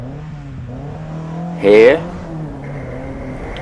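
A Toyota Corolla rally car at a rally sprint event, its engine humming at a distance and then briefly rising in a louder rev before settling, with a commentator speaking over it.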